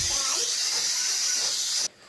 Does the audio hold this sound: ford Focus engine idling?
no